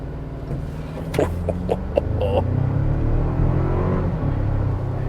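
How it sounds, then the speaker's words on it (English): A 2024 Toyota Tacoma Limited in Sport Plus mode being brake boosted, with a steady close engine rumble that rises in pitch as the revs build. Several sharp clicks and clunks come early, and no one speaks. "So I'm going to put into its Sport Plus mode here. I'm going to brake boost it."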